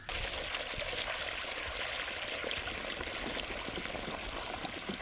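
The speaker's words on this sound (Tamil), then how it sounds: "நம்ம தண்ணியோட அவுட்லெட் பார்த்தீங்கன்னா 2 இன்ச்சு எடுத்துகிட்டு இருக்கோம்" Water gushes steadily from a 2-inch delivery outlet of a borewell pump set 330 feet deep and driven by a 3 hp motor, a continuous close, hissing splash with no pauses.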